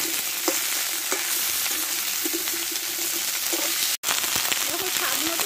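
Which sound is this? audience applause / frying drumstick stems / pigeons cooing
frying drumstick stems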